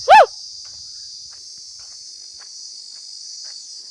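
Insects, likely crickets, in a tree beside a humid onion field keep up a steady, high, unbroken drone, with a sharp bird-like chirp right at the start.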